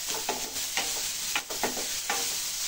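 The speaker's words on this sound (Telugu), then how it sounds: "బ్రౌన్ కలర్లో వచ్చే వరకు ఫ్రై చేసుకుందామండి ఆనియన్" Onion and curry leaves fry in a pan for Andhra-style vadakari, with a steady close sizzle broken by repeated scraping stirs at irregular intervals.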